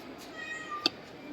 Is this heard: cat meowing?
yes